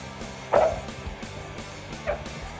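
A dog outdoors near a fishing spot gives a couple of short, soft barks or yips at a moderate distance, over faint background noise.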